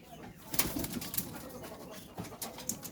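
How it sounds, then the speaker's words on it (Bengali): Pigeons moved into a new, fairly roomy enclosure, soft cooing mixed with rustling and scattered small knocks and flutters, faint and close in a quiet space. "সব কবুতরগুলো এখানে, একটাও বাইরে রাখি নাই।"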